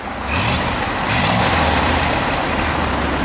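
The rebuilt engine of a 1971 Chevrolet Corvette revs, two quick rising blips of throttle followed by a loud sustained rumble, heard up close.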